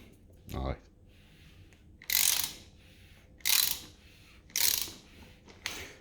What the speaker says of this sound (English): torquing down the connecting rod bolts